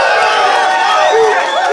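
A rap battle crowd at Fiddler's Elbow, a Don't Flop event, roars and shouts in a loud, sustained wash of cheering and whooping, with voices rising and falling throughout.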